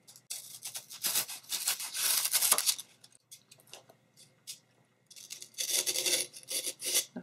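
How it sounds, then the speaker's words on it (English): Plastic being shaved off the sides of a container insert, heard as close, rough rasping strokes in several bursts separated by short quiet gaps. "Just shave a little bit off the sides and stick it right in there."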